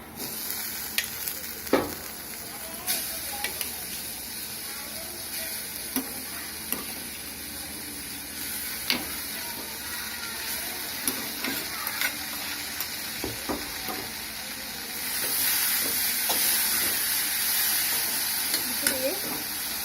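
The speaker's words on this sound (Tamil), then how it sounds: "இப்போ வந்து கோஸ் வந்து இது கூட சேர்த்துக்கலாம்" Shredded cabbage stir-fries with sautéed onions in a pan, a steady sizzle broken by repeated scraping stirs and spatula taps, growing into a louder, fuller hiss near the end; no one speaks.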